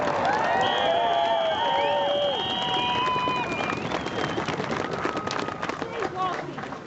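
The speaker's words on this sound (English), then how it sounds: "Give yourself a cheer for turning up today." A rally crowd in support of RAF Lossiemouth cheers loudly, with whoops and whistles at the start that fade into babble and scattered clapping.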